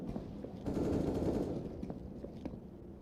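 AK rifle fire in Counter-Strike: a dense automatic burst followed by a few scattered single shots, fairly quiet and heard alone without talk.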